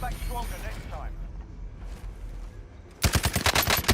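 Bursts of rapid automatic gunfire from Call of Duty Warzone break out loud and close in the final second, after a stretch of muffled game noise and background chatter.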